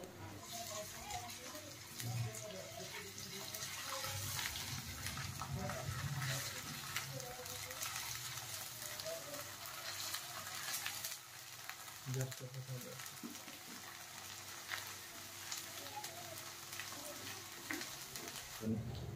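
Onion frying in a pan as ginger and garlic paste is added, a continuous soft sizzle with occasional stirring, fairly faint and close, with a voice talking over it.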